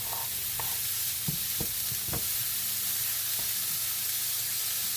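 Steady, loud sizzling of sausages frying in a hot pan, with a few faint clinks and scrapes over the continuous crackle.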